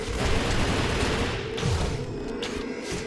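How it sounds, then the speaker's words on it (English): Machine gun fire in the video game Champions Online: a dense, continuous rattle of rapid shots with a booming low rumble, steady throughout and fairly loud. "Can you not see why I love machine guns?"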